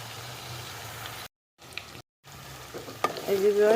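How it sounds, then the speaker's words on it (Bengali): Onions sizzle and fry in a pan with a steady crackle, cut by two brief silent gaps, and a louder clatter of stirring near the end. "দেখতেছেন পেঁয়াজগুলো বেজে নিলাম"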